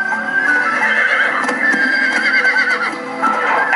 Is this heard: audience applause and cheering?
no